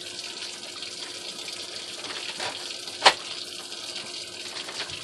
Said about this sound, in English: Alright, so I have my water running.